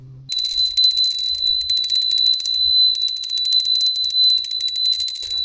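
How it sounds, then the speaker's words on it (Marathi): A small hand bell rung during a home puja on Sankranti, ringing steadily and brightly for several seconds with brief pauses, loud and close, with no talking. "थंडीतनं घंटी पण वाजवायला जमत."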